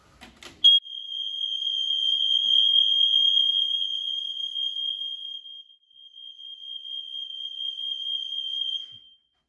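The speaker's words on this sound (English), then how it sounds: "So that's all of the alarms going off." A piercing, continuous high-pitched tone from interconnected smoke alarms being tested in a shared rental property sounds after a brief knock, holding steady for several seconds before stopping.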